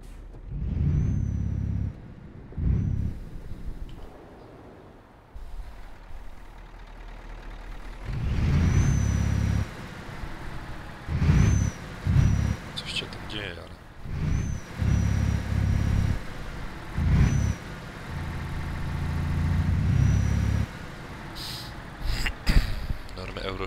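In Euro Truck Simulator 2, a Scania T V8 truck engine with open pipes and a chip tune rumbles deeply in repeated revving bursts with pauses between them and air brake hisses, while someone talks throughout.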